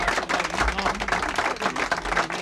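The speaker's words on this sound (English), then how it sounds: "I get some hand clap for that." Hand clapping from a small group during a hip-hop interview, busy and uneven, heard over background sound with no clear talk.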